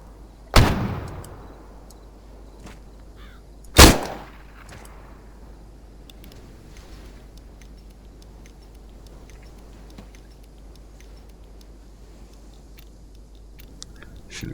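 Two loud, close gunshots from a disliked rifle in an ArmA 3 Ravage mission, spaced about three seconds apart, each with a sharp crack and a short decaying tail into quiet ambience.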